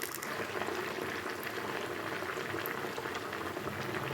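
Aval vadai batter frying in oil at medium heat gives a dense, even bubbling and crackling that holds steady from start to finish, close by and moderately quiet, with no voices.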